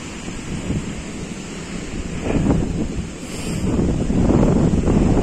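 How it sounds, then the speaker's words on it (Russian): Strong wind buffets the microphone over the roar of a stormy sea at Arkhipo-Osipovka, with waves surging and breaking in swelling, loud bursts throughout. "ветер дует сильный. В общем, море штормит,"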